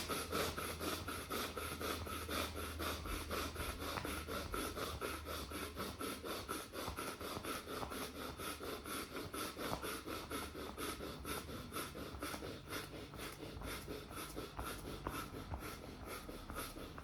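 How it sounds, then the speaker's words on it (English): Steady, continuous rubbing and massaging of the sides of the hands, a soft close-up friction sound with a fast, even back-and-forth rhythm and no speech. "Now, massage sides of your hands."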